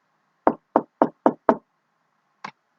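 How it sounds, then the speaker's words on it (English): Someone knocks at a door: five firm, evenly spaced raps close by, then a pause and a single softer knock, with silence all around. "Do I hear a knock at the door?"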